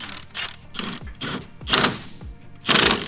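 Nut being tightened on the top of a toy ride-on jeep's front shock, giving repeated ratcheting clicks in uneven bursts, close and fairly loud, with no talking.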